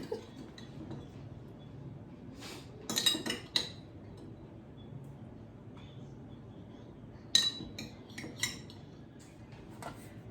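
Dishes and cutlery clink and clatter in the background as a man makes a salad in a home kitchen, with a few sharper bursts of clinks over a low room hum.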